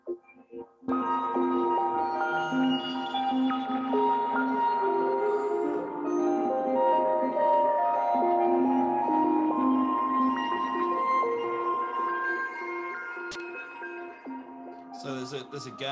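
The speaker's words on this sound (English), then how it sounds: "just getting the raw EEG data and making music out of that" Music generated from raw EEG brain signals in a live performance: sustained layered tones and shifting melodic lines play steadily and fairly loud throughout, with a brief brighter burst near the end.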